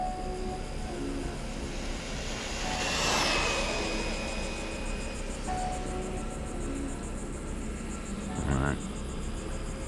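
Associated DR10 RC drag car on a 2S battery making a full-throttle speed run, a faint distant whine that swells and passes around the middle of the clip, with a brief sharper noise near the end.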